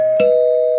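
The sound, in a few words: doorbell ringing, radio drama sound effect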